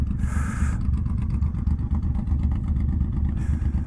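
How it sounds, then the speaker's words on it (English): A Honda VTX 1800 motorcycle with an aftermarket exhaust, heard from close by while riding in 24-degree cold, giving a deep, steady engine rumble with a throbbing pulse and bursts of wind hiss. "that's a VTX 1800 right there"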